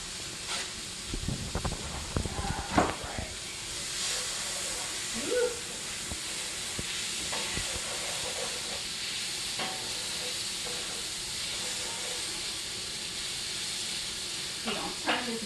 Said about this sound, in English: So I'm going to saute them in some butter, and we have our butter heating up in the skillet now